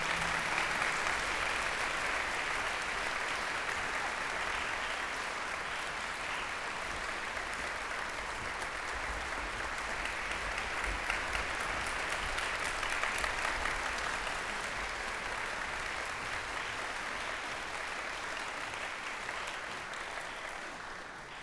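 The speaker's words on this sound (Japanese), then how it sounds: "皆様もう一度大きな拍手をお送りください。" Audience applause after a concert band performance at a university wind ensemble concert, a dense, sustained roar of many hands clapping from a large hall crowd, steady throughout and slowly tapering at the end.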